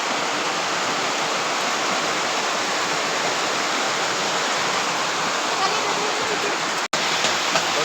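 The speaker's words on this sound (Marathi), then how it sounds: "बघा बाहेर पाऊस लय मोठ्यात आहे." Heavy monsoon rain pours outside a house in a steady, loud, unbroken hiss, dense and close, with no other sounds standing out.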